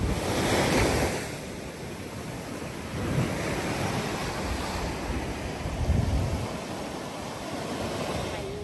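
Surf rolls onto a black sand beach in Hawaii, a broad continuous wash of breaking waves with heavy wind rumble on the microphone and swells rising and falling.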